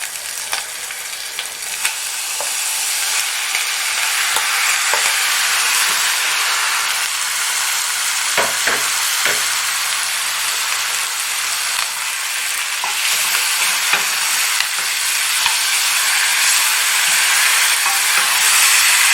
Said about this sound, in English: So next I'm going to add my tomatoes.